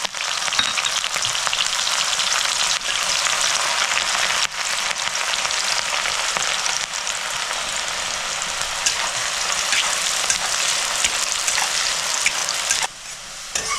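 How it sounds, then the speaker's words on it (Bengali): Large chopped onion frying in hot oil on medium gas to make beresta for rui fish korma, a loud, dense, continuous crackling sizzle throughout with no voices. "পেঁয়াজটা আমি লাল লাল করে পুরো ভেজে নেব"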